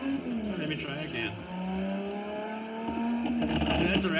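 Race car in a racing simulator game accelerating hard, with a rising and falling engine whine and gear shifts, loud and continuous, as a voice talks over it.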